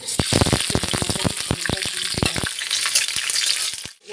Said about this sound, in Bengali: আলু আর ঝিঙেটা কেটে নিয়েছি, ফোড়নের মধ্যে আলু আর ঝিঙেটা